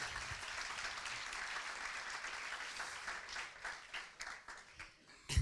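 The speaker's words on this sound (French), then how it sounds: "Vous pouvez les applaudir." An audience at a francophone fundraising seminar gives sustained applause for volunteers, a dense wash of clapping that thins into scattered claps toward the end.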